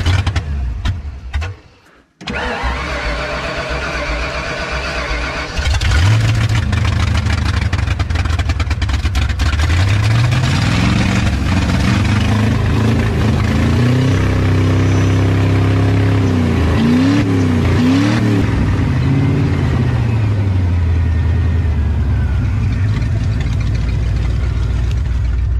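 Loud, raw car engine with the exhaust ripped off and flooding at the O2 sensors, idling roughly then revving repeatedly in rising and falling bursts, close by.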